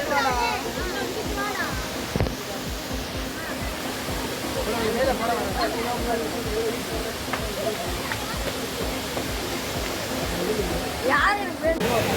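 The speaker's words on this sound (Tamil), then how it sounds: "இந்தியாவிலே முப்பத்தி ரெண்டாவது உயரமுள்ள நீர்வீழ்ச்சியாக இந்த பாலருவியை சொல்கிறாங்க" Palaruvi waterfall in Kerala drops about 300 feet, its loud continuous roar of falling water dominating close by, while someone speaks throughout over it.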